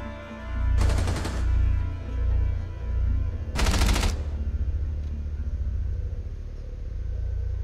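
Automatic gunfire in Rainbow Six Siege, a first-person shooter, in two loud, close bursts about three seconds apart, each roughly half a second of rapid shots, over a low rumbling game background.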